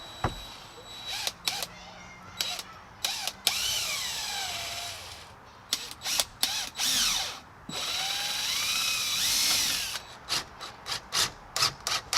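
A power drill driving screws into a wooden gate, whirring in several bursts, a few long and rising in pitch as each screw seats, with short clicks and handling knocks between, close by.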